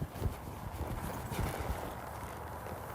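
Hooves of a ridden horse thudding in an uneven walking rhythm, close and muffled beneath a constant rushing background noise.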